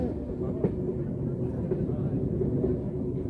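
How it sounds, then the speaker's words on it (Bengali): A local passenger train on the Ranchi–Purulia line rumbles steadily along the tracks, a low continuous roar with faint rattling, close by and unbroken throughout. "আমাদের ট্রেন যাচ্ছে এখন"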